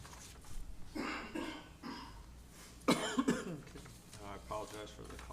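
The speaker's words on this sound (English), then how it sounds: "I apologize for the coughing." Harsh coughs and throat clearing break out during a town council meeting, with a couple of loud bursts close to the microphone and quieter voices and room noise between them.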